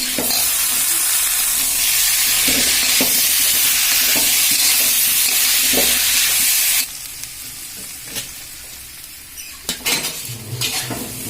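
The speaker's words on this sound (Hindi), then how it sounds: "मसाला हमार अच्छी तरह भुना गया है।" Masala with tomatoes and salt sizzles steadily in a pan for a Mithila-style potato and pea greens dish, with repeated spoon scrapes and stirring knocks; the sizzle drops away partway through, leaving sparser clinks and stirs.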